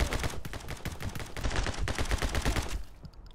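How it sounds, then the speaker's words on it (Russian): An Uzi submachine gun fires in the video game My Friend Pedro, rapid sustained bursts of close, loud automatic shots with a short pause midway before the firing stops. "Слушай, новое оружие, УЗИ!"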